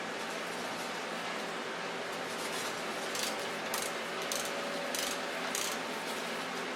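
A wrench loosens bolts on a rock slab saw, heard as a faint, broad mechanical hiss with a few quick ratcheting clicks in the latter half, close by and without talk.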